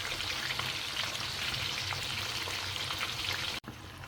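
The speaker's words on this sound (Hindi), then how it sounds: "जैसे फ़िश एक तरफ से फ्राई हो जाएगी तो दूसरी तरफ से फ्राई करूँगी" Fish sizzles in hot oil in a pan, a steady dense crackle with fine spitting pops throughout, close and fairly loud, with a brief dropout near the end.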